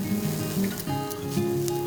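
Eggplant strips frying in oil in a non-stick pan, a soft continuous crackle and sizzle with light popping, close and fairly quiet under kitchen background tones.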